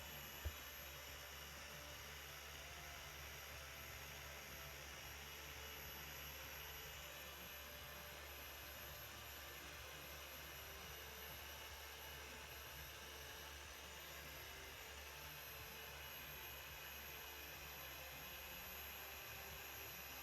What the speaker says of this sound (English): I continue to polish with the 3-inch polisher